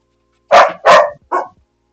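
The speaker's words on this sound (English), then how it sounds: "The dog is outside while you're barking inside." A dog barks three times, close and loud, the last bark shorter, with silence around it.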